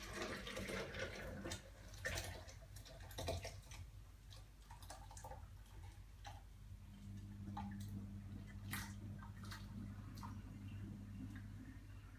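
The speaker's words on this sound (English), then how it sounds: "I'm going to pour this into the blender." Hot chicken broth pours steadily into a blender with a watery splash and trickle, followed by light clinks and taps, close and fairly quiet with no talking.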